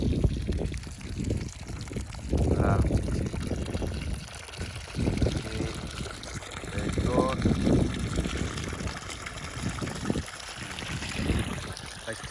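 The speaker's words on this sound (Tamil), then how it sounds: "வால்வு பழைய தண்ணி இருந்த தண்ணி வந்துச்சு" Water gushes steadily from an irrigation valve into an onion field, a continuous rushing pour heard close by while people talk over it.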